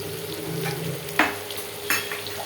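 Potato pieces frying in oil with ginger paste, cumin paste and turmeric, a soft steady sizzle broken by two sharp clinks of a spatula stirring against the pan.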